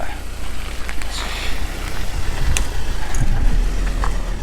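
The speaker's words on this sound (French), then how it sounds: "Oups, une voiture qui arrive." A car approaches on a narrow road, its engine rumbling low and steady beneath wind noise and someone speaking, gradually growing slightly louder.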